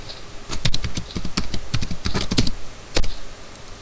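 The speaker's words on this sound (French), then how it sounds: "On va taper mon pseudo." Fingers type a username on a computer keyboard, a quick irregular run of close, crisp key clicks with short pauses between bursts.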